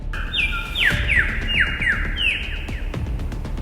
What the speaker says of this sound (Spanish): Ave lira.